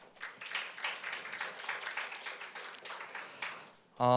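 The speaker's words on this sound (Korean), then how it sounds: "다시 한번 설명 주신 윤세명 과장님께 박수 부탁드리겠습니다" An audience at a Korean government R&D investment-track briefing gives a faint, distant round of steady applause that lasts several seconds, then a voice cuts in at the end.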